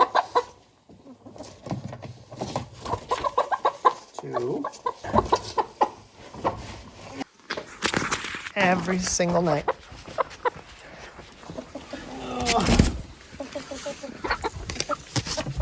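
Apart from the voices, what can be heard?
chickens clucking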